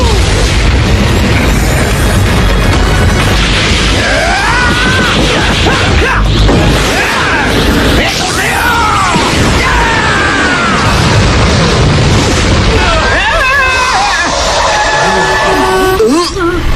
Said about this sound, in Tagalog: May tinetesting na namang sobrang laki ng paputok sa Capsule Corporation!